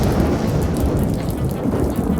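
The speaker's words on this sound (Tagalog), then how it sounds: "malakas nga yung ulan" Heavy rain pounds down in a dense, continuous roar during a thunderstorm, with a deep low rumble of thunder underneath, loud and unbroken throughout.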